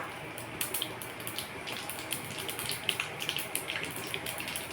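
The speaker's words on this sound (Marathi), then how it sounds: "तेल आपलं छान तापलेलं आहे तर टाकून घेऊ आपण मोहरी जिरा" Mustard seeds and cumin sizzle in hot oil for tempering, a faint steady frying hiss with scattered crackles and small pops throughout, no speech.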